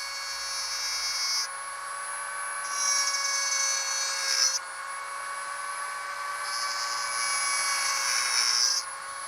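A Vevor 40,000 RPM hand grinder grinding a chamfer, a steady high-pitched whine that rises in bursts as the bit bites into the work and drops back between passes, close and loud with no voices.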